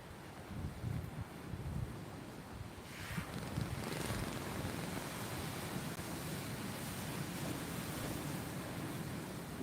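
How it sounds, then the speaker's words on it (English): Wind gusting at sea during a sea-fishing trip, heard as a steady, loud, broadband rush with surf-like wash, swelling slightly after the first few seconds and holding constant with no talk. "Wind might be picking up a little bit here"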